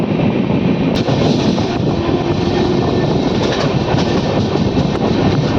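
A Sirpur Kagaznagar–Secunderabad SF Express train running after leaving Ravindrakhani station, a loud steady rumble and roar heard from on board with faint intermittent wheel clicks and no voices.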